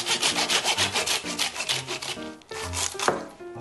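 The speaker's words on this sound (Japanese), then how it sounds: "ちょっと尻尾邪魔なんで尻尾切っていきましょう" A blade saws through the tail of a large fish in quick back-and-forth strokes, giving a rough, rhythmic rasping that is close and loud, with a short break before a few final strokes.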